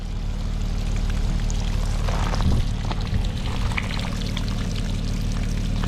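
Water pours steadily from a cattle water trough that was pushed aside, a continuous loud splashing flow with a brief surge in the middle, heard alone outdoors.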